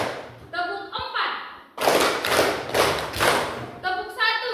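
A teacher's voice gives a short instruction, then a classroom of students claps together in a quick burst of five loud, evenly spaced handclaps before the teacher talks again.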